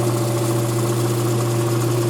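A 2014 Toyota Corolla engine idles at operating temperature during a coolant and hose change, a steady, loud, unbroken hum with a constant low drone, no voices.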